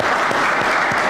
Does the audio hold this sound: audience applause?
yes